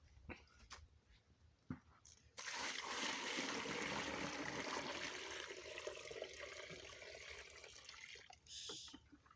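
Water gushes into a twenty-litre bucket holding neem cake and bone meal for a vegetable-garden fertilizer mix, a loud steady pour lasting about six seconds after a few faint knocks, then tapering off.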